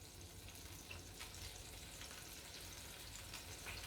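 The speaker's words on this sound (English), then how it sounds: "It's sizzling away. I love that sound." Soft, steady sizzling of a banana and peanut butter sandwich frying in butter in a pan, a faint crackling hiss with occasional small pops and no voices.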